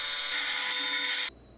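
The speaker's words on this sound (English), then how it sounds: "first I'm going to drill for the bolt hole" A power drill whines steadily at high pitch for just over a second while drilling a bolt hole, then cuts off abruptly, leaving a faint low hum.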